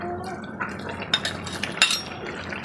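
Fried prawns being stirred in a pan with a utensil while cooking with okra, producing quick scraping clinks and light taps against the metal over a soft low background hiss.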